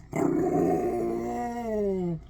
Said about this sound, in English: I gotta see what's up with my dog.